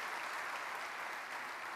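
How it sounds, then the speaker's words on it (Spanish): A church congregation bursts into steady applause, a dense, continuous wash of many hands clapping together, sounding somewhat distant and filling the room without any voices on top. "¿Por qué no le aplaude a Dios ahí?"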